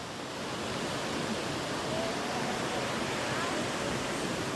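Tinago Falls waterfall roaring in a constant broadband rush, loud and steady throughout, with no break and no talking.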